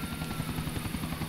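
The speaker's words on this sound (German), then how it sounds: "Jetzt flieg mal, ey, der arme Helikopter." Helicopter in the video game GTA 4 flying with a steady rotor chop and engine drone, continuous and fairly loud, with no voices.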